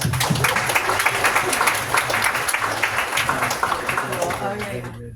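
An audience applauds at a tech event, with dense, steady clapping throughout that tapers slightly toward the end, mixed with a little crowd noise.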